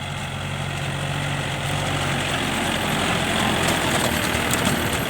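A Yanmar EF393T tractor with its stock factory exhaust runs steadily in a rice field, a continuous low diesel drone with a rough chugging texture that swells slightly toward the end.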